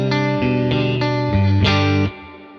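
Electric guitar played through a Tone King Imperial preamp pedal with its reverb dwell turned up, a few sustained chords ringing in sequence with a long, drippy reverb tail, loud and alone with no talking.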